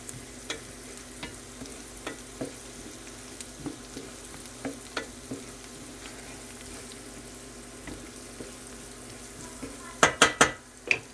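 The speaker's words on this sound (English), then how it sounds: "back to my onions. You can see they're starting to get a little brown" Onions frying with bacon and garlic in a pan, a soft steady sizzle punctuated by regular utensil scrapes and taps, ending in a few louder clanks against the pan.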